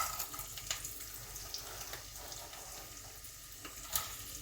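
Green chilies, curry leaves and onions sizzle steadily in hot oil in a pan, with scattered scraping and stirring clicks over a constant frying hiss.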